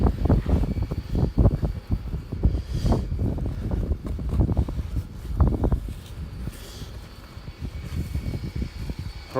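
Strong gusting wind in a Portland, Oregon snowstorm buffets the microphone with low rumbling bursts that rise and fall irregularly, loud and close throughout, easing somewhat toward the end.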